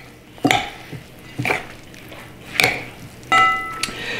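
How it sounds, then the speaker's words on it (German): Raw beetroot salad with apple, mayonnaise and sheep's cheese stirred in a bowl, a few close, distinct clinks and wet scrapes of a utensil against the dish, spaced about a second apart. "schön umrühren"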